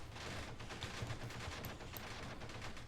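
Rifle fire from a battle in the Graviteam Tactics war game, set in the Battle of Cuito Cuanavale, crackles as rapid, continuous volleys of overlapping shots layered over a dense rumbling background.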